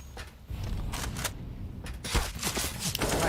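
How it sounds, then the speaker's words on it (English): Counter-Strike match on the Nuke map, with a flashbang and gunfire: a dense, noisy burst of game combat with scattered shots and bangs over a steady background, fairly loud throughout. "Nice flashbang outside"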